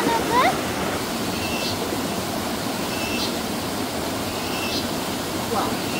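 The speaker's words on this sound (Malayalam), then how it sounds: "വെള്ളം ചാടുന്ന കണ്ടോ" Fast-rushing stream water roars as a steady, full wash of noise close by, with faint voices now and then beneath it.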